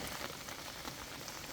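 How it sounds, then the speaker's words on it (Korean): Steady, faint rain patters down on a beehive yard, a dense broadband hiss with soft scattered drop ticks throughout, no voices. "천둥도 치면서 비가 오는 형태고"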